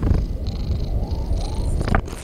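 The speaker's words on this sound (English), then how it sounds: "It's my cat." A cat purrs close and steady, a soft rhythmic rumble that continues through the whole stretch with slight rises and falls, with no talking over it.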